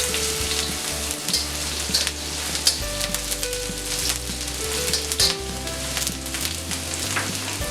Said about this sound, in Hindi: चॉप किया हुआ अदरक, हरी मिर्च। इसे थोड़ा सेक लेंगे पहले।